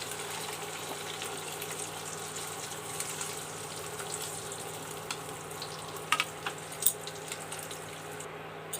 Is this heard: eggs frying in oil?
yes